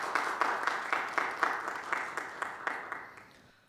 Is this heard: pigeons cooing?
no